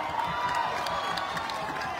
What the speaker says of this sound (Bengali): আপনাদের জন্য একটা জোরে হাততালি হয়ে যাক।